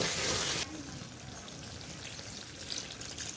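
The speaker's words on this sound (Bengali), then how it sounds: "তবুও আমি আরেকটু জল দিয়ে দিলাম একটু গ্রেভি করার জন্য।" Hot water pours into a pan of chicken kosha cooking on the stove, a bright splashing rush for the first half-second, then a softer bubbling simmer.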